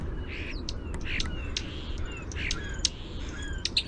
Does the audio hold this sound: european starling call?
yes